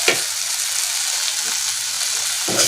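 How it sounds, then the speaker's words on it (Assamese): Turmeric with ground ginger and garlic sizzles steadily in a hot pan over a flame, a dense continuous frying hiss with a few scraping stirs near the start and end. "ফ্লেমত ৰাখিম আৰু 2 মিনিটমান ভাজি ল'ম"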